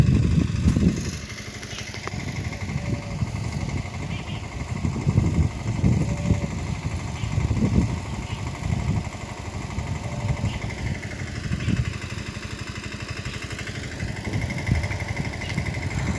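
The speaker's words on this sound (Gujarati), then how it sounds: "નાના ટ્રેક્ટરથી પાળીઓ નખાવા છે।" A small tractor engine runs steadily in a castor field while ridges are being formed, a continuous mid-pitched drone with slight rises and dips, fairly close and without talk.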